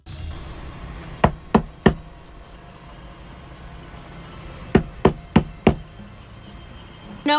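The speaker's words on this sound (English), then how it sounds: "I heard an alarming knock." Knocking on a motorhome door: three sharp raps, a pause of a few seconds, then four more firm knocks, close and clear against a quiet background.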